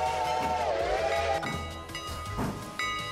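A sustained steam-style train whistle in a video game, warbling and bending in pitch as the player teleports, with a second whistle-like tone cutting in near the end amid busy game sounds.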